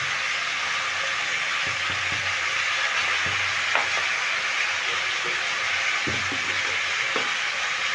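Chicken fries in a pan with salt and turmeric, a steady broadband sizzle running throughout with occasional soft stirring clinks and scrapes, close and even in loudness.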